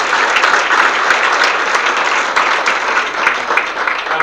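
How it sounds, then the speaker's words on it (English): Audience applause for event sponsors at a business gathering fills the room, a dense, steady wash of many hands clapping that stays loud and even throughout without any talk. "Let's give our sponsors a round of applause for this."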